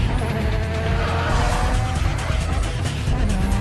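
A Veilside Fortune wide-body rotary car drifts on huge 305mm rear tires with shaved tread, tires skidding in a loud, sustained screech over a deep, steady engine roar close by.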